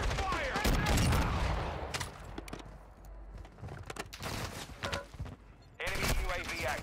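Gunfire in a shooter video game comes in dense bursts and rapid volleys with gaps between them, loud and close, with voices talking under the shooting.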